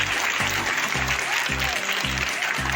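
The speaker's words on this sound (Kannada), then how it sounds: "ಜೋರಾದ ಚಪ್ಪಾಳೆ ಮೂಲಕ ಅವ್ರನ್ನ ನಾವು ಅಭಿನಂದಿಸಬೇಕು" Children and teachers at a school clap together in a loud, dense burst of applause that carries on steadily the whole time, with a regular low thumping underneath.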